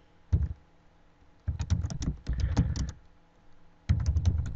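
Typing on a computer keyboard in short bursts of quick close key clicks separated by pauses, with no voices.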